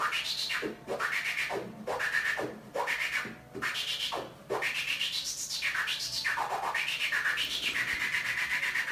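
A DJ mixer's noise effect being turned gives loud sweeping filtered noise whose pitch rises and falls repeatedly, with short dips and surges as the knob is rotated back and forth.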